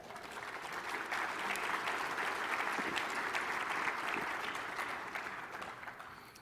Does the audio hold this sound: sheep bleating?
no